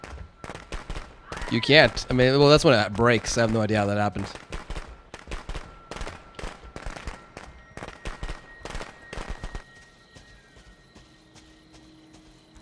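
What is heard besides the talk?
firecrackers going off in Friday the 13th video game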